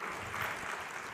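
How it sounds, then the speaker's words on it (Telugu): Brief, steady clapping from a church congregation praising God during a service, moderately loud and even. "చప్పట్లు కొట్టి దేవుని స్తుతిద్దాం"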